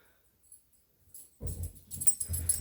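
A pet puppy snorts and whimpers in a home craft room, starting faint after a quiet opening and growing into close, breathy snuffles and small whines.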